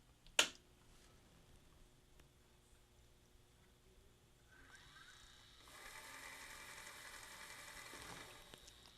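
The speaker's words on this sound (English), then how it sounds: "as soon as I apply power, you'll hear the loading motor try to run to eject the tape" A Magnavox ZV427MG9 VCR/DVD recorder's loading motor whirs and grinds faintly as it ejects a tape, starting after a sharp click and building into a steady mechanical buzz that lasts to the end.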